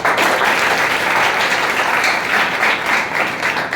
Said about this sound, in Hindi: उनके नाम पर एक बार ताली